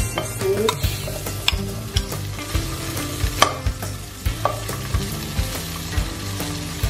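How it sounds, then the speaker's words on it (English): Sausage frying in a pan for a spicy noodle carbonara, with a steady sizzle broken by repeated sharp scrapes and clacks of stirring, close and fairly loud, with no talk. "Fry it until a slightly brown or just cooked."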